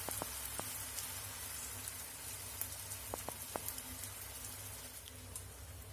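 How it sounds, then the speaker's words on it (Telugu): Eggless omelette batter fries in oil in a pan with a steady, soft, dense sizzle throughout. A few small pops and crackles rise above it. "2 స్పూన్స్ వరకు ఆయిల్ వేసుకొని ఇది చక్కగా ఆమ్లెట్ లాగా వేసేసుకోవాలి"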